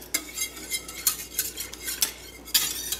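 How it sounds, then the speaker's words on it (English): A whisk clinking against a bowl while yogurt is stirred into warm milk, quick bright metallic taps and scrapes in irregular bursts, close and fairly quiet with no talking. "So I'm just going to put my yogurt in there and then whisk it in."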